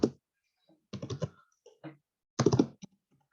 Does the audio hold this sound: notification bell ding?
no